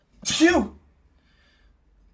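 A single loud, close sneeze bursts out, followed by a short exhaled breath, with near silence afterward.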